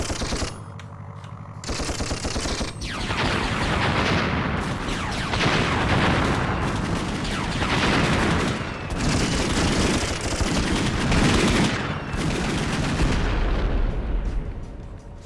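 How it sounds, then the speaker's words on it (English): Toy soldiers firing in the Dreamcast game Toy Commander produce a steady rattle of machine-gun fire mixed with explosions, dense and continuous throughout and fairly loud, with no talking. "Little toy soldier shooting at me."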